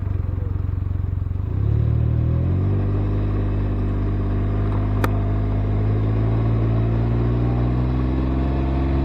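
A Can-Am Ryker three-wheeled motorcycle's engine fires up and settles into a loud, steady idle, then rises slightly in pitch and holds a close, continuous rumble.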